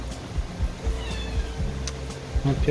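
A cat in an off-grid barn home meows several times in short, close calls over low background rumble, with a faint voice nearby.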